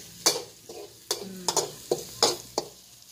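Sizzling bursts and scraping stirs as wild mushrooms are stir-fried with holy basil in a wok, several sharp clatters in uneven rhythm, close and moderately loud.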